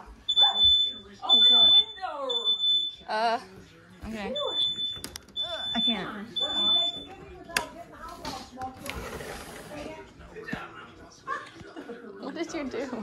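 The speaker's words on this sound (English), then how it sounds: "Until the fire alarms go off." A smoke alarm beeps in repeated shrill bursts through the first half and again later, during a Thanksgiving gathering, while people talk and laugh loudly over it.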